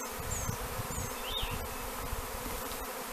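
A honeybee swarm buzzes densely outdoors as two hives swarm in northeast Tennessee, a steady close drone of many bees with individual insects whining past.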